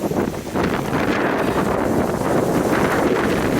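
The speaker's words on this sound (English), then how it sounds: "It's windy" Steady, roaring gusts of strong wind and rain while hiking buffet the microphone with continuous low rumble and hiss, no voices.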